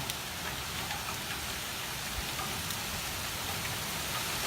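Heavy rain and wind from Hurricane Irma pour steadily down a street in a dense, hissing wash with no break, loud and close, with no voices.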